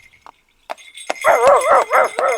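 A dog, just released, gives a few short yips and whimpers before breaking into a run of loud, close, rising-and-falling barks and whines, alone without any talk.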